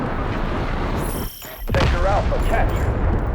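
Explosion in the video game Delta Force, a dense burst of gunfire and blasts with a brief quiet dip before a heavy boom swells back, while someone talks over it.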